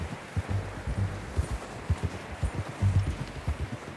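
A horse's hooves clip-clop in Red Dead Redemption 2, a steady walking rhythm of soft, close thuds over a low background.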